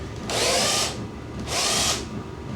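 Power drill driving screws into a soap box car, two loud whirring bursts of roughly half a second each with a short pause between, close up.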